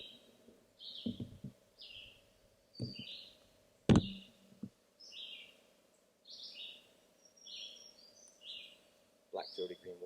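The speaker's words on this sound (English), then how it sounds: "And another black-throated green warbler over there. So there's two males counter-singing" Two male black-throated green warblers counter-singing on a June nature walk, short high buzzy phrases repeating at intervals, fairly near, with a few knocks and low murmured talk between songs.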